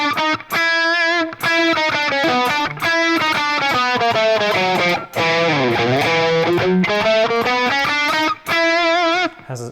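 Distorted electric guitar runs through a scale with chromatic passing notes added between steps, a steady stream of sustained, overdriven single notes played loud and alone with brief gaps between phrases.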